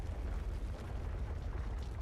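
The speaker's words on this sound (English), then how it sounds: "They built a goddamn battleship cannon." Battleship cannon firing in an anime battle scene, a heavy, sustained low rumbling blast that fills the whole moment with deep booming energy and no voices.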